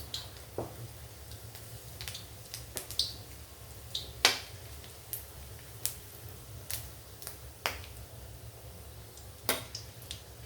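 Cinnamon, chili, fennel, cardamom and cloves frying in hot oil for a country chicken dish, giving off sparse, sharp crackles and pops at irregular intervals over a faint, quiet hiss.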